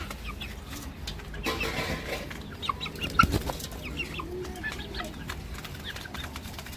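Young Bhimavaram chicks on a poultry farm cluck and peep in scattered bursts, with some wing flapping, at moderate distance, alone without talk.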